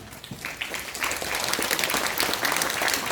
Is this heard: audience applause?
yes